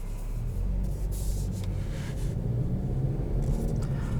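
A 2020 Kia Optima LX with a 2.4-liter naturally aspirated inline-four and six-speed automatic, driving in sport mode: a steady low engine and road rumble heard from inside the cabin, constant throughout with no talking.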